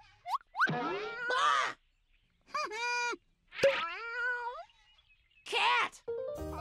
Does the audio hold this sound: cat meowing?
yes